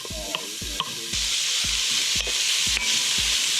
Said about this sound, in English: we're gonna cook that bacon and we'll come back when it's done